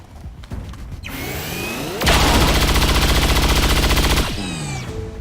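Automatic weapon fire in XCOM 2: War of the Chosen, a loud sustained burst of rapid shots lasting about two seconds, framed by whooshing game effects and mechanical sounds before and after.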